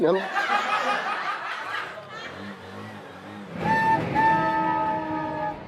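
A train rumbles nearby and sounds a long horn blast, sustained tonal notes ringing over rolling noise, with people talking around it.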